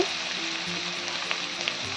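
Onions and young pointed gourd seeds fry in a pan, giving a steady, close sizzle with a few soft stirring taps, no voices.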